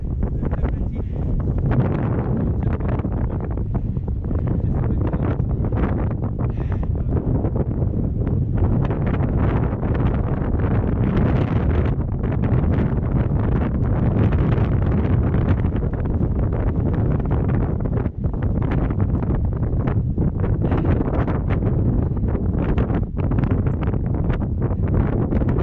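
Strong wind blasts across a hilltop near a lookout tower, relentless loud roaring buffeting against the microphone with constant gusty fluctuations, no voices heard.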